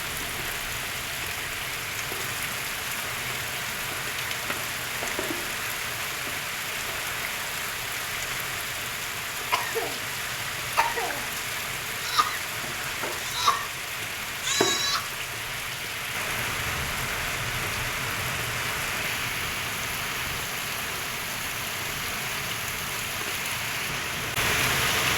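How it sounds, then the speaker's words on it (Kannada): Heavy rain falls steadily on surfaces near a house in strong wind, a dense, even wash of sound with a handful of sharp knocks and taps partway through. There is no speech. "ಗಾಳಿ, ಜೋರು ಮಳೆ ಬರ್ತಾಯಿತ್ತು."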